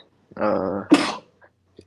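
A single sneeze, a drawn-in breath followed by a sharp explosive burst, then quiet with a faint click.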